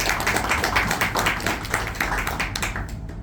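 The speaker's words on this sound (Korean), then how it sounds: "큰 박수로 모셔보도록 하겠습니다." An audience at a book launch and talk show for a new franchise book applauds a guest coming to the stage, a steady dense wash of clapping that continues throughout and thins out near the end.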